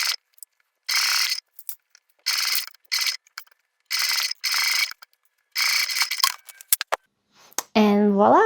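A sewing machine backstitches along the sides of a small fabric pocket for a makeup bag, running in short, sharp mechanical bursts separated by brief pauses, close and fairly loud, with a rising whirring tone at the end.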